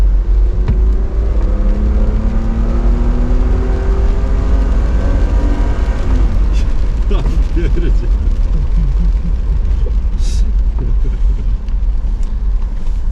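A Mercedes G-Class engine drones loudly and steadily at full throttle, its pitch climbing in the first half, with occasional brief sounds layered over the continuous roar.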